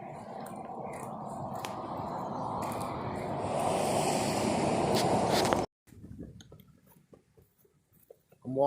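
Water pouring over the spillway of a lake dam, a steady broad rushing roar that swells louder partway through, then cuts off abruptly into quieter outdoor sounds.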